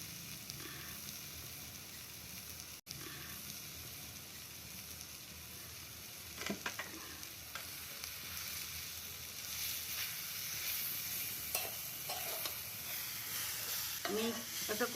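Ground garam masala sizzling into a drying paratha filling in a pan, a low, quiet crackle that grows busier over time with scattered stirring scrapes and clicks.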